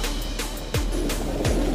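Racing pigeons at a club loft in Tarlac, Philippines, cooing in low, repeated calls, close by under a steady background hiss and occasional soft rustling.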